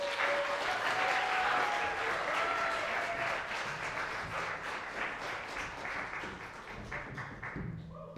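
Audience applause at a theater performance at Lesley University's Moran Theater, a sustained dense wash of clapping from a crowd that continues loudly throughout and gradually eases, with a few scattered thumps.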